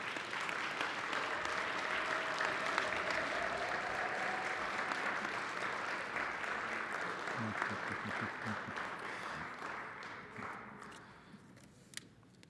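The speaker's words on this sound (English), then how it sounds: "please stand once again and give the graduates another well-deserved round of applause" A standing audience at a college commencement ceremony gives the graduates a long, dense round of applause that holds steady, then thins and fades toward the end.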